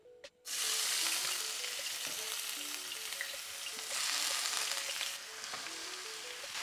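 Chopped onions hit hot oil in a very hot pan over high heat, letting out a loud, continuous sizzle that surges and fades slightly, with faint music playing underneath.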